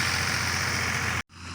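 A tractor engine runs steadily in a field while ploughing, a loud continuous drone that cuts off abruptly near the end before resuming more faintly.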